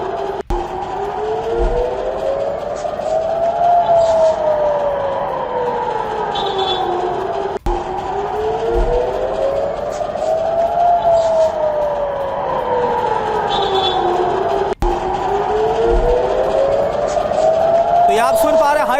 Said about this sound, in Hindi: पूरे हाइफा में इस वक्त एयर रेड अलर्ट सायरन गूंजते हुए नजर आ रहे